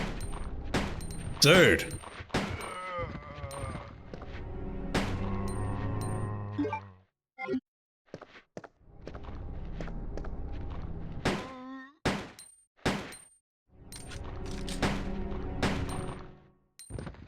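Gunfire in the 1998 survival horror game Resident Evil 2 as Leon: a string of sharp, loud shots spaced through the passage, with a voice talking between them and some thuds and footsteps.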